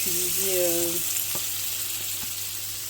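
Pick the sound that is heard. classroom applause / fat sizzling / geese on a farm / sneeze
fat sizzling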